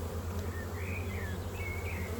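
Honey bees buzz in a low steady hum, with a few brief higher whines drifting past, fairly close.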